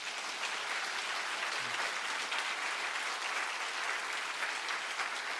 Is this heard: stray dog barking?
no